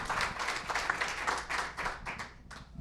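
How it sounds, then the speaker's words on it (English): An audience claps for panelists at a Conscious Capitalism Indy panel discussion, a moderate, steady patter of many hands with slight swells, heard from mid-room with no voices over it. "Another round of applause for our panelists."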